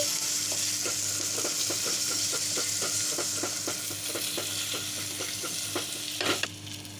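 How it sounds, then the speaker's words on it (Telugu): Ginger garlic paste frying in a pan for mutton curry, a steady sizzle with a run of regular stirring scrapes, and a louder clatter near the end. "అల్లం వెల్లుల్లి పేస్ట్ వేగిందండి. పచ్చి వాసన పోయే వరకు వేయించుకున్నాను."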